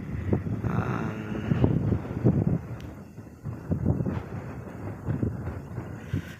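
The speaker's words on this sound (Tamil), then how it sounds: "நல்லா காற்றடிக்குது, நல்லா ஆடுது காற்றுல." Steady wind buffets the microphone and rushes across a weedy rice field, a loud rumbling roar that swells and eases in uneven gusts throughout, with no talking.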